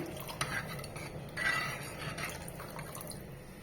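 Tamarind juice goes into boiling rasam in a pot and is stirred, giving soft liquid sloshing and light scraping of a utensil against the pan, quiet and close with no talk.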